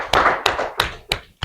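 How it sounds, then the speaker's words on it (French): A few sparse claps, about five distinct slaps, sound at a church missionary gathering as a newly named secretary is introduced. They are spaced irregularly, close and fairly sharp, with no talking. "Voilà que j'ai pas un petit applaudissement."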